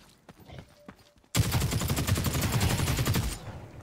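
A sustained burst of rapid automatic fire from a hip-fired weapon in the shooter game The Cycle Frontier, loud and close for about two seconds after a few quieter footsteps and clicks.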